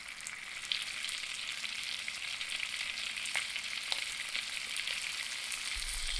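Crispy potatoes tossed in butter, spices and lemon in a pan make a continuous bright sizzle with a few light clicks from gentle tossing, moderately loud and without speech.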